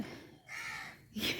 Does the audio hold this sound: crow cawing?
yes